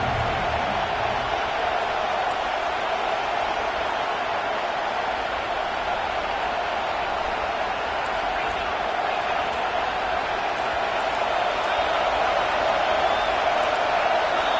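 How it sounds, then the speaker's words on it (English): A roaring crowd fills a packed college football stadium during a Notre Dame versus Texas game, a dense, sustained wall of noise at steady loudness throughout, broad and distant-sounding. "Listen to this crowd just shaking the girders of this place, trying to help their defense."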